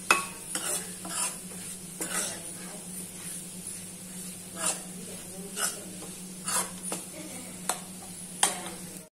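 A spoon scrapes and stirs sabudana khichdi with crushed peanuts in a pan, giving repeated irregular scraping strokes over a soft, steady sizzle, close and fairly quiet.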